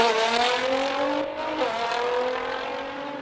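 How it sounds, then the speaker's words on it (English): An Alfa Romeo Giulia Quadrifoglio races up a hillclimb course at a King of the Mountain event in Cape Town. Its engine note is steady and loud, with a brief dip and shift of pitch between gears, and no voices. "Now let's have a look at Art driving the Giulia Quadrifoglio."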